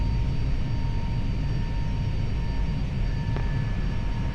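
A steady, loud rumble and hiss fill a Ryanair airliner cockpit during the climb after takeoff, engine and airflow noise constant with faint tonal whines and a single brief click.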